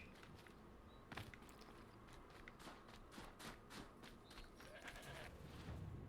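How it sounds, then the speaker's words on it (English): A goat bleats in the video game Horizon Zero Dawn, faint short calls over soft footsteps and quiet ambient game sound. "hear a goat."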